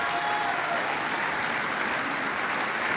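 Sustained applause from House members in the chamber during the Speaker vote, a dense, even wash of clapping from a large crowd, steady and continuous throughout with no speech.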